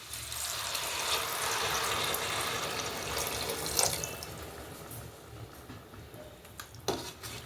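Water pours steadily into a pressure cooker holding rice for a quick biryani, a continuous splashing rush that gradually eases, with a couple of brief knocks near the end.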